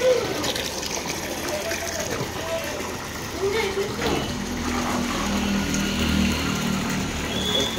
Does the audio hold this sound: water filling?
yes